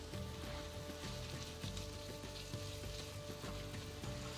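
Onions with ginger and garlic frying in a pan for butter chicken, a steady close sizzle with faint repeated stirring ticks and a low background hum throughout, no talking.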